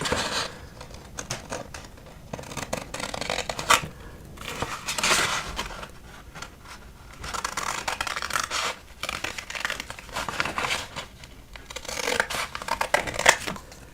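Scissors cut out a printed verse on sticker paper, a close run of crisp snips and papery scratching that comes in irregular bursts for several seconds, with no talking.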